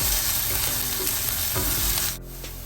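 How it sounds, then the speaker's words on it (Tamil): Onions frying in a pan until golden for dosa chutney, a steady close sizzle with faint stirring scrapes, easing to a quieter crackle near the end. "பொன்னிறமாக வர மட்டும் கொஞ்சம் பொரிய விடுவோம்"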